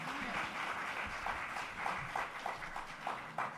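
Conference audience applause rises as a dense patter of many hands clapping at close range. A voice speaks briefly at the start.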